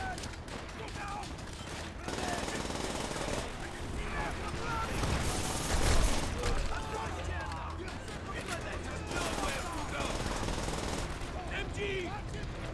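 Machine gun fire rattles in a World War II urban battle in Call of Duty: World at War, dense bursts continuous throughout, mixed with shouting soldiers, explosions and general battle noise.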